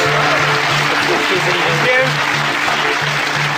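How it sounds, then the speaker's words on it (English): A studio audience applauds and cheers in a loud, continuous roar, with a voice speaking over it throughout. "Cheer and applaud now for person 1"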